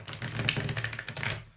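Quick, crisp riffling of a thick-cardstock tarot deck being shuffled, a rapid flurry of papery taps close up that stops abruptly.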